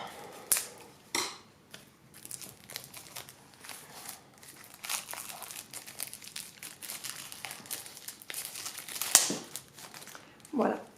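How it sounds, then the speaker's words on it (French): Plastic packaging crinkles and crackles close by as a new Mon Petit Oracle des Cristaux oracle card deck is unwrapped, with a few sharp snaps standing out among the rustling. "Et ici dedans, on a les cartes. On va les ouvrir."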